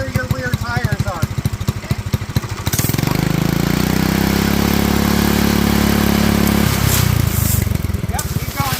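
A John Deere 110 lawn tractor fitted with a Predator 212 engine runs close by, first with people talking over it, then a steady loud drone that shifts pitch as the tractor pulls forward.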